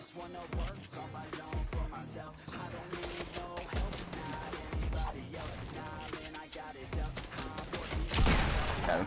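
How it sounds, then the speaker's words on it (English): Fortnite gunfire crackles in rapid bursts and single shots over game music and effects, fairly loud throughout, with a player talking over it. "Oh, we're getting shot from behind."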